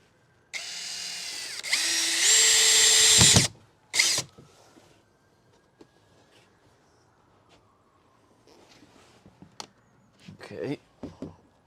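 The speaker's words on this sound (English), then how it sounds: "Maybe let's put in a few screws and see." A power drill drives a few screws in one loud, sustained whine of about three seconds, followed by a short second burst and then faint clicks and rattles. Someone speaks briefly nearby.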